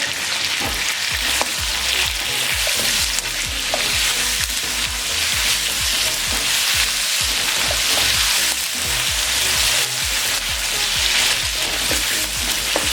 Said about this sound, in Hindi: 10 से 20 सेकंड के लिए इसको उसके साथ फ्राई करेंगे।